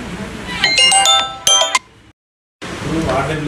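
A mobile phone rings in a municipal meeting about drinking water in Macherla, its bright repeating electronic tones pulsing in short bursts, cutting off abruptly, then murmuring room noise returning.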